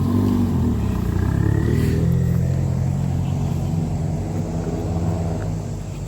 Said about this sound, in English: Forester, it has a little exhaust.